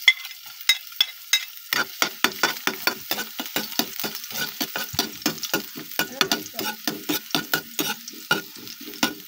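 Garlic sautés in a little oil in a pan, giving a soft, continuous sizzle under repeated sharp scraping clinks of a spatula stirring in an irregular rhythm, close and fairly loud, with no talk.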